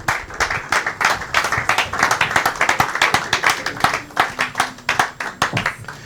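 A church congregation claps in a fast, steady rhythm, dense and energetic throughout, with many hands together filling the room.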